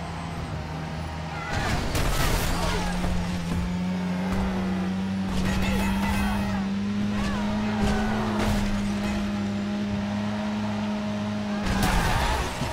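Car speeding and accelerating through city streets in the driving game Driver San Francisco, a sustained engine drone held at a steady pitch, with sharp knocks from collisions and a voice talking over it.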